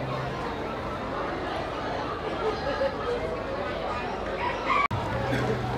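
Chickens cluck and crow amid steady farmyard noise at the Royal Darwin Show in Australia, with people talking in the background.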